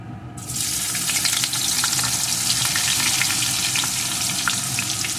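A bay leaf and whole garam masala go into hot oil for a chicken malai curry, bursting into a loud, continuous sizzle close by with scattered crackles and pops that keep going steadily throughout.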